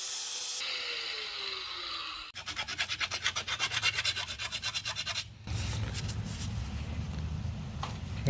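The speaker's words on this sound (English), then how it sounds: "I'm just going to use a rat tail file to kind of help radius this edge right in here" A rat tail file radiuses the edge of a metal window frame on a 1966 Ford Bronco, heard as a run of rhythmic rasping strokes close by, set between stretches of steady background hiss.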